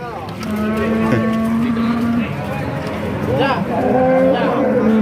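Cattle, including Limousin-Brahman crosses and Angus, moo loudly at a livestock market, several long drawn-out calls overlapping against a busy background of other animal sounds.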